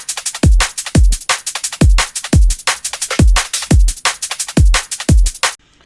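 A punchy, rolling liquid drum and bass drum loop with deep booming kicks and crisp snares rolling in a steady groove, played alone.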